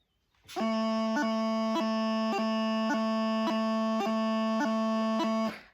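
A bagpipe practice chanter plays a steady reedy low A, broken by repeated quick G grace-note blips roughly every half second, forming triplets, close and loud with no talking.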